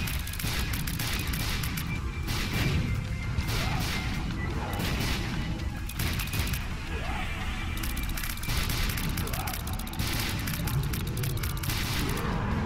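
Dense, continuous barrage of explosions and crashing blasts in The Binding of Isaac: Afterbirth+, loud and unbroken, with booms layered over game music and effects and no pauses for the whole stretch.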